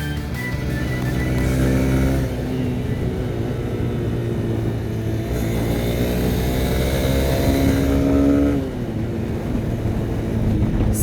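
A Honda Hornet 2.0 motorcycle riding past and revving, its engine note climbing and falling in strong harmonic sweeps, loud and close, with a sharp rev near the end and no talking.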